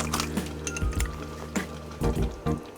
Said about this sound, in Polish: Pieprz zmielę w moim wspaniałym tureckim młynku, najlepszym na świecie.